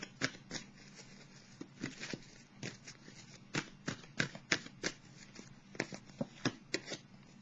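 Tarot cards are shuffled by hand in quick, irregular bursts of crisp riffling and slapping, close and fairly quiet, with no speech.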